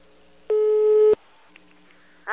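A telephone line on a prank call gives a single loud, steady electronic tone lasting about half a second, followed by a quiet line and the start of another tone.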